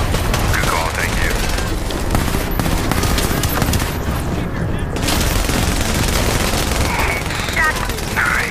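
Rapid automatic gunfire rattles continuously in The Division, with dense, loud bursts of shots and booming impacts filling the whole stretch.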